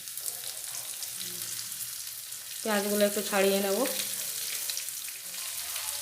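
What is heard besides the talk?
chopped onions frying with ginger and garlic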